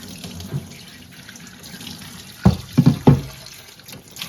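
Hot water runs from a tap over a 4L60E transmission valve body in a sink with mild detergent, a soft steady stream broken by a few louder splashes and gurgles near the end.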